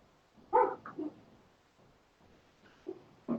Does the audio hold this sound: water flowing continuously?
no